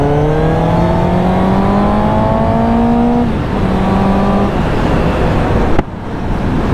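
A BMW four-cylinder motorcycle engine revs loud and close, its tone climbing steadily through the gears before easing off, then a short second rise, ending in a sudden drop.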